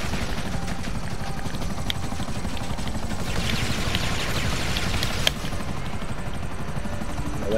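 A video-game helicopter drones steadily with rotor chop for several seconds, loud and continuous, with a brief sharp click near the end and no voices.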